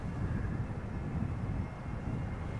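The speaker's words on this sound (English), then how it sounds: "A320 Neos up next. This one arriving from Milan." An easyJet Airbus A320neo arriving from Milan at Amsterdam Schiphol produces a steady, dense engine roar with low rumble, moderately loud and unbroken, with no voices.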